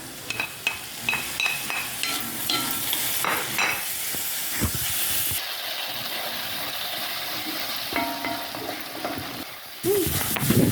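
Curry leaves and tomato are added to sautéing onions and green chilli in a pan, giving bursts of sizzle and hiss with spatula clinks and scrapes; the frying flares louder midway and again near the end.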